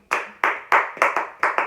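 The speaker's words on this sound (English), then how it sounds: "Can you clap? Can we clap?" Close hand clapping during a children's bedtime story reading, seven sharp individual claps in a fairly even rhythm, each with a short room ring.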